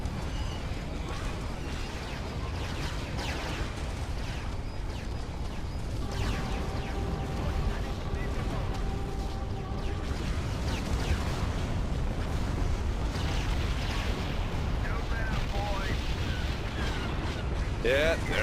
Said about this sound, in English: Let's overload the guns and fire at will.